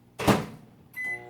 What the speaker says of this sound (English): I'm going to pop this in the microwave real quick, you know, just for like 10 seconds